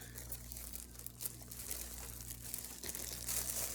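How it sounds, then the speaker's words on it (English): Crinkling plastic wrapping as a packaged shamrock plant bought from Walmart is unwrapped, soft continuous rustling and crumpling at close range over a low steady hum, no voices. "Give me a few minutes to unwrap it."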